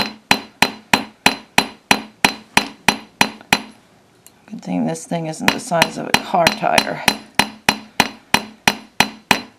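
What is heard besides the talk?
riveting hammer striking metal jewelry clasp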